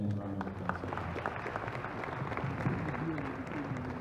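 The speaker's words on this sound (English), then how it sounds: "Please let's give them a round of applause." An audience claps in a steady wash of applause at a student innovation event, crowd noise and scattered voices mixed in throughout.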